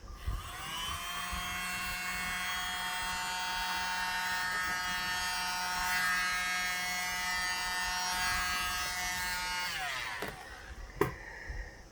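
A mini blower pushes air across acrylic pour paint on a small 4x4 inch tile, a steady high motor whine with dense harmonic buzz that holds evenly for about ten seconds, then cuts off, followed by a couple of brief clicks.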